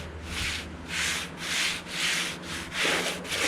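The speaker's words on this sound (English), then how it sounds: "all this is a little block of wood, and I'm using 60 grit right here" Hand sanding with 60 grit sandpaper wrapped on a small wood block, body filler over lead on a 1951 Chevy truck bed; six steady rasping back-and-forth strokes, close and rhythmic, with no voices.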